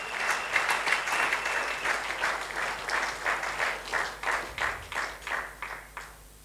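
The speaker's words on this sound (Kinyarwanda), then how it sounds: "Amashyi menshi ku Mwami Yesu Kristo." A congregation at a church sermon by an apostle applauds in praise of Jesus Christ, loud rhythmic clapping that swells in steady pulses and fades out near the end, with no voices over it.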